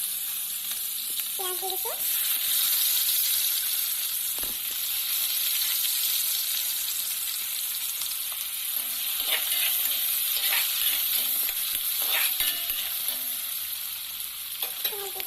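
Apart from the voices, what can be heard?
onions frying in oil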